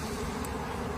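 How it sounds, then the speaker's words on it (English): Honey bees being shaken onto a sheet of paper, a dense, steady buzzing drone held close and fairly quiet without a break. "I'm going to shake the bees onto this piece of paper, and then I'm going to dump them into our sample cup"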